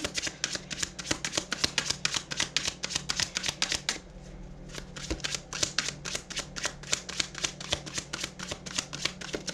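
Tarot cards are shuffled steadily and closely, a dense run of crisp, rapid riffling flicks with a brief pause near the four-second mark before the shuffling resumes, and no one speaks.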